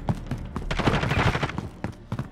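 A VLK Rogue shotgun fires slugs in Call of Duty Modern Warfare 2019, with a few sharp, heavy reports rising over the game's busy background noise.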